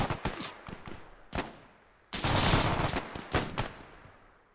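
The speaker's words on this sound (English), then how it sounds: "Holy shit, it's an MG42!" Bursts of MG42 machine gun fire crack out in the World War II mod of Arma 3: sharp separate shots, then a dense roaring burst in the middle, then a few more reports echoing away.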